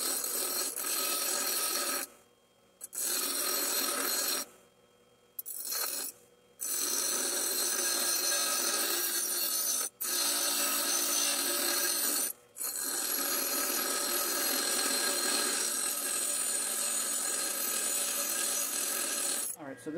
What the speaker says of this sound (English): this allows me to grind down the welds I just made